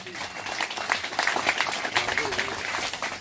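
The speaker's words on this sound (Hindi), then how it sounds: "जोरदार तालियां हम सब की तरफ से" A crowd at a village farmers' protest meeting against cement factories claps in a steady, dense wash of applause, with voices carrying over the noise.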